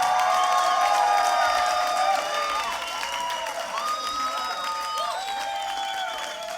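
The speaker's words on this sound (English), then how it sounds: "So you gotta give another round of applause to Cool HerShe" Crowd applause and cheering at a beatbox awards event fill the space continuously, with tonal sounds layered over the clapping throughout.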